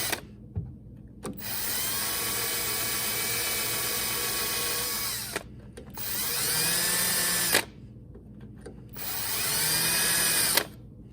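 A power drill whines steadily at close range in three long bursts, with short pauses between them, drilling a number 7 tap hole through a metal lawn tractor deck.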